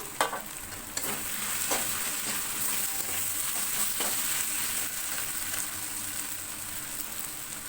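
Onion that has been fried well browned, with green and dried chillies going in, for butter chicken in a large pot: a constant close sizzle with a few sharp stirring knocks near the start, and no voices.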